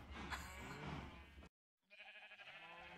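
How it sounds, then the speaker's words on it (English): Sheep in the Minecraft game bleat in a long, wavering cry, loud and close, then after a brief silence a softer, rougher bleat follows. "What happened to my sheep? And my cows? I can hear them."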